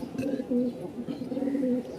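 Small Giribaz pigeons cooing close by, a couple of soft rolling coos in a row, loud and clear with only slight background noise.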